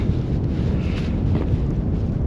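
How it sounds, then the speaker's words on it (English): Wind blowing across an almost frozen lake on a winter hike in Algonquin, a loud steady rumbling gust that buffets the microphone throughout. "The wind just picked up."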